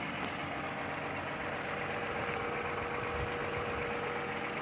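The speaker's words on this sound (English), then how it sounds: "Engine's running here." A 2015 Toyota Sienna van's 6-cylinder engine with automatic transmission, front end damaged in a collision, idles steadily and evenly, a quiet continuous hum heard alone.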